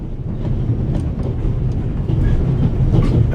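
An out-of-control train rolls through the Alps in the video game The Raven Remastered, a dense continuous rumble of wheels and carriage with faint rhythmic clatter, steady and close throughout.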